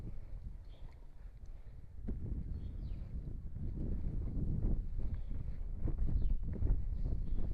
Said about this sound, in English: Trying to block the wind here.